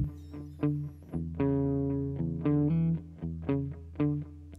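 Bass guitar run through an amp simulator and an LA-2A compressor, playing a gritty, slightly distorted riff of plucked notes and held tones in a rhythmic pattern, heard alone without talk.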